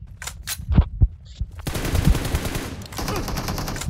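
AKM rifle fire in the BGMI mobile game, a few single shots followed by sustained rapid automatic bursts, loud and close with game effects.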